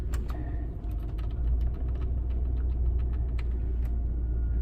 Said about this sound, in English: Let's see if the heater works here.